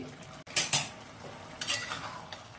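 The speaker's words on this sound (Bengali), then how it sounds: "5 মিনিট হয়ে গেছে, ঢাকাটা খুলে দেখে নিচ্ছি" A metal lid lifted off a pot of jackfruit dalna cooking over a medium flame, giving two bright clanks about a second apart with soft rattles between, close and alone.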